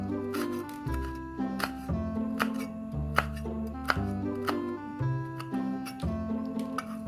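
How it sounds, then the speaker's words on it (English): A knife slices red chili on a cutting board, a steady series of crisp, close cuts heard under background music with a pulsing bass line. "we need to slice chili"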